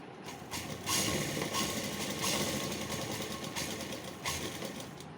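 A sewing machine runs steadily, stitching together the shoulder seams of a night suit, with piping already attached. The motor hums continuously with a dense rattle of needle strokes and slight surges in speed, close and fairly quiet.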